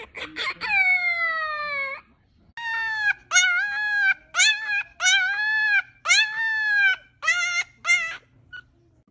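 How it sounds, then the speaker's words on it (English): A small French bulldog puppy lets out a series of tonal, wavering howls, one long cry followed by a string of shorter rising-and-falling yelps, close and loud. "That tiny howl, you would think a little wolf just appeared."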